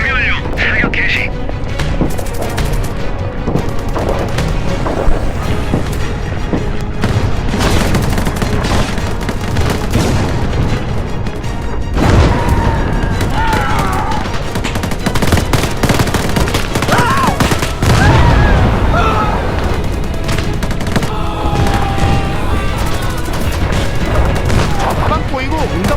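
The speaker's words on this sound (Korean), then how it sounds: "사격 개시." A volley of gunfire opens up in a military strike on North Korean drones, dense continuous booming and rattling bursts that run unbroken at full loudness, with voices talking over the barrage.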